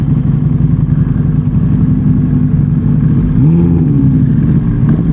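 A Lamborghini V10 engine rumbles steadily nearby and then swells in a short rev, heard from a street setting among sport bikes, with a constant low drone throughout.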